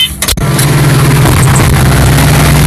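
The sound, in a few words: motor running near the field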